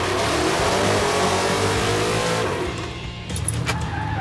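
Chevy muscle truck with a 4-link suspension pulling hard while driving, its engine revving loud and close in a sustained rising roar, then easing off near the end.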